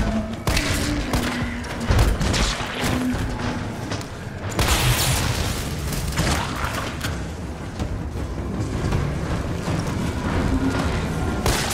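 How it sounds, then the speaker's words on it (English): Gunfire from a gun in Resident Evil 3 Remake: repeated loud shots and booms crack through dense game noise and music, fairly steady across the stretch, with heavier thuds in between. "Alright, let's use the gun."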